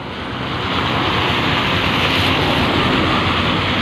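Steady, dense rain falling on a wet street, heard from shelter beneath a tree, a continuous loud hiss with no pauses and no voices.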